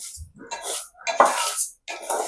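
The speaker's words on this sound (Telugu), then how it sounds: "మాడిపోకుండా మనము కలుపుతూనే ఉండాలి" Sugar being stirred in a pan as it caramelizes, with repeated scraping and clinking of a utensil against the pan in uneven bursts separated by brief pauses.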